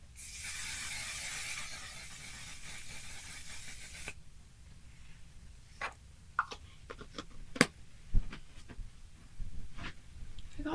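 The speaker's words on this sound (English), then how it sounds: "set it with the One Size setting spray" A cosmetic setting spray hisses in a long continuous burst from the One Size bottle for about four seconds, close to the mic, followed by quiet handling clicks and taps.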